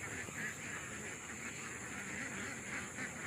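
Ducks let out of their coop to forage, quacking in a steady overlapping chatter at a moderate distance over faint outdoor background noise.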